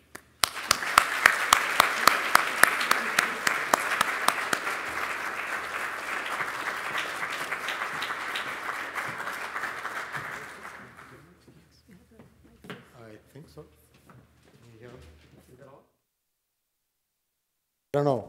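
A conference audience applauds steadily for about ten seconds to welcome two speakers onto a stage, the clapping dense and close before fading out into quiet shuffling and brief talk.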